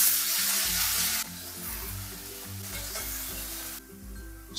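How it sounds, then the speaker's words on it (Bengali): Fenugreek leaves are stir-fried in a pan with onion, tomato and spices, giving a loud, continuous sizzle with stirring over a tonal music bed. "শাকটাকে এবার খুব ভালো করে মশলার সাথে কষিয়ে নেব"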